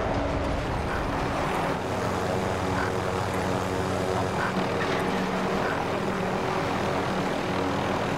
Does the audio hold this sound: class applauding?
no